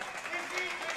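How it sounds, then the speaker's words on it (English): An audience at an axe throwing event in Austin, Texas, cheers and claps in a brief, dense wash of applause with a voice speaking over it. "doing some cheering"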